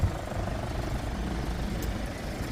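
A used car engine with about 190,000 km on it, from an accident-free vehicle, runs at a steady, low, fairly quiet idle throughout.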